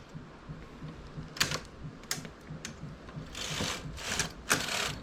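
A knitting machine works a finishing detail that imitates ribber work, giving quiet mechanical clicking and ticking, then sharp, raspy sliding sweeps of the carriage in short bursts close by, with no talking.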